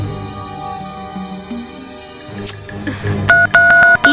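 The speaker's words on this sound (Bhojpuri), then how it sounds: "हम ओके फोन लगा के देखा तानी" Phone dial tones heard close: a few short beeps, then a series of evenly spaced key tones near the end, after a quiet stretch with faint background sound.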